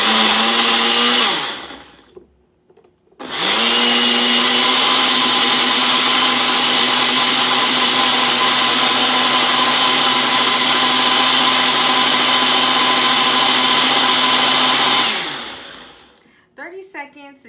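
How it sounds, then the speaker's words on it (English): A Ninja Auto iQ blender whirs through a smoothie, starting with a short burst, pausing, then running a long, loud, steady high-pitched spin for about twelve seconds before winding down, followed by faint clatter. "we're gonna blend, and I'm going to use the Auto ID blender."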